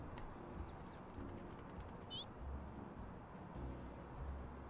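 Soft, low pigeon coos repeat in short bursts over a steady city ambience in the Little Kitty, Big City video game, with a few brief chirps from other birds.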